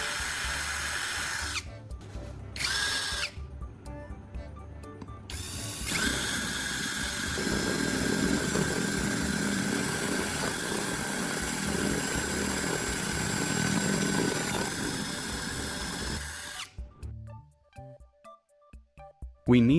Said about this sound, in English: I'll use my drill to make a small pilot hole, and then follow up with a step bit to widen it slightly.